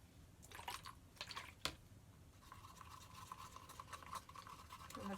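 A brush stirs Amsterdam Acrylics Reflex Green paint with water in a small container, giving soft irregular wet clicks and scrapes that turn into a continuous quick swishing, close and faint.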